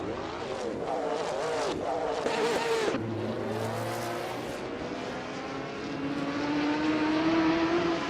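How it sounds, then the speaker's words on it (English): Race cars in a racing game pull away from the starting line, their engines revving and rising in pitch under a steady roar from the pack, with a commentator talking over the start. "Bob Big Oldnerd has taken the lead right off the line, holding a slight edge over Volksen, who is in second place"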